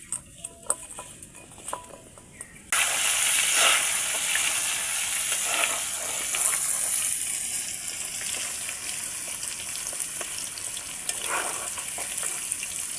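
Sliced potatoes fry in hot oil with salt and chili powder for chicken biryani, a loud steady sizzle that bursts in after a few seconds of quiet kitchen clatter and holds close, with light stirring scrapes.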